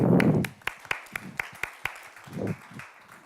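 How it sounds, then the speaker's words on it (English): Sparse, scattered claps from a small audience at a business panel discussion, a handful of sharp separate hand claps spaced irregularly, with low murmuring under them. "Applause."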